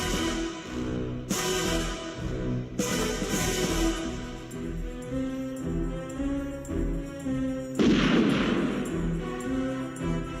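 A James Bond gun barrel sequence from the Timothy Dalton era: orchestral score with repeated hard transients, then a broad loud gunshot burst near the end over sustained music.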